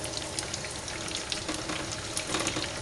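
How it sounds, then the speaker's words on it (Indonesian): Wonton-skin pastries filled with tuna fry in hot oil, giving a steady, close, crackling sizzle with no talk over it. "Gorengnya jangan banyak-banyak biar kelihatan cantik nanti matangnya."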